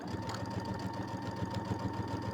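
A sewing machine stitches quilt seams slowly over pins, a close, steady rapid mechanical whirring and needle chatter running continuously without pause or speech.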